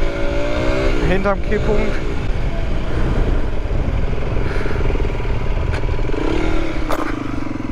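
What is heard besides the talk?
125cc motorcycle accelerating, shifting into second gear during wheelie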